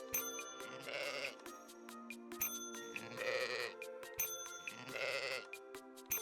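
In a hand-drawn sheep-counting game, a sheep bleats three times, each a wavering, nasal cry spaced about two seconds apart over a faint sustained musical tone.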